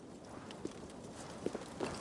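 Horse hooves walking in the video game Assassin's Creed Valhalla, a few faint, irregular clip-clops against a soft background hum.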